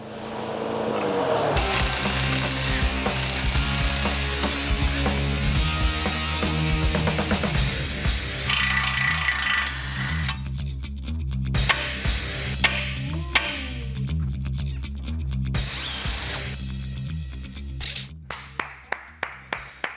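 Tightening parts on the front of a 2011 Ford truck, starting with a long stretch of steady, loud motor-like whirring that breaks into choppy bursts of tool noise and ends in a run of sharp, evenly spaced clicks, up close with no talk.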